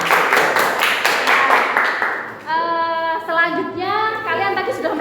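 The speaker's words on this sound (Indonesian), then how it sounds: "Beri tepuk tangan untuk kelompok 2." A classroom of students gives a short burst of rhythmic clapping for a group after its presentation. The clapping stops after about two seconds, and a voice follows.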